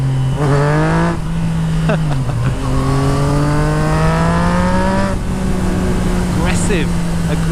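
A 2014 Yamaha MT-09 motorcycle fitted with a full Akrapovic exhaust accelerates hard through rising gear pulls, loud and close, the engine note climbing steeply then dropping at shifts.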